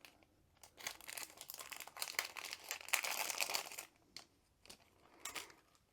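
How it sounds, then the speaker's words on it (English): A resealable plastic bag from a craft advent calendar being opened and its contents pulled out, with close, crisp crinkling and rustling in uneven bursts, loudest in the middle and then fading to short scrapes. "It's a resealable bag, so just open it up, take the contents out."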